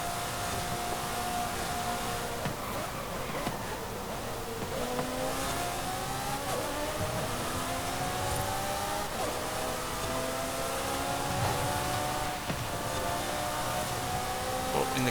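Ferrari and Lamborghini engines roar in a Forza Horizon 5 race, a continuous loud drone with rising tones through the gears and brief dips at shifts.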